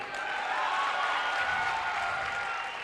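Steady applause from a live comedy-show audience, a continuous dense wash of clapping at moderate level with no gaps.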